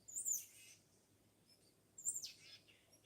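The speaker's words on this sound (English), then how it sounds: "Oh, it's the cardinals, but it's Miss Cardinal." Two short, high calls of a female northern cardinal about two seconds apart, fairly faint against a quiet outdoor background.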